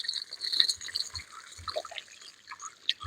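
Water flows from a pipe in a quiet outdoor spot, a faint, steady trickle with light dripping and splashing and no voices.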